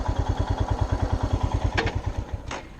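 A Royal Enfield Himalayan fuel-injected motorcycle engine idles with a steady low thumping beat, close up. Near the end the beat slows and fades as the engine cuts out on its own, with a couple of faint clicks.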